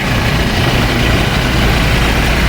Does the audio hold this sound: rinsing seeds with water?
no